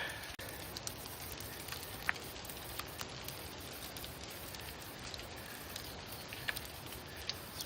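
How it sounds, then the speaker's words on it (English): Hail falls outdoors on a dark mountain trail near a lake, a faint, dense, even patter with scattered sharper ticks of stones striking surfaces, steady throughout with no talking. "and now it's hailing."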